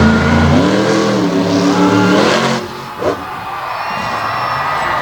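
Racing truck engine revving loudly on a dirt track during a Renegade MTT event at Brownstown, Indiana, with a sustained rising and falling engine drone, a brief dip near the end, then steady roar with faint crowd noise.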